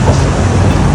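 A tram rolls past close by, a loud continuous rumble of wheels on rails for a brief moment, no voices.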